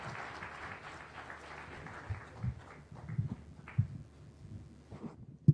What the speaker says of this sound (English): Why don't we give him another hearty clap for comments well made.